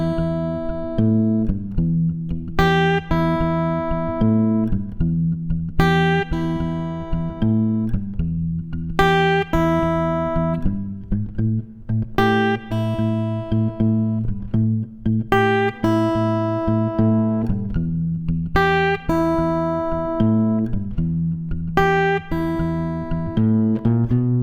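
Fingerstyle blues guitar playing a melody over a moving bass line, plucked notes ringing steadily and continuously for the whole stretch, up close with no voices.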